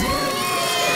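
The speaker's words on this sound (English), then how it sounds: "Let's give a big round of applause for them." A brief burst of crowd cheering and clapping with whoops and children's shouts, for the two finalists of a contest show, loud and continuous for about a second.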